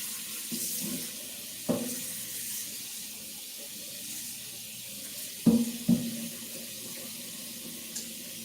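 Water runs from a kitchen tap into a cooking pot with a steady hiss, broken by a few sharp clunks of the pot against the sink.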